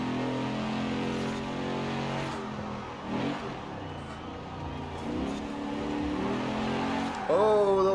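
A Mercury Cougar Eliminator in Forza Horizon 4 drones steadily under heavy throttle, its engine note rising and falling with gear changes, ending in a brief tire squeal as a voice talks over it.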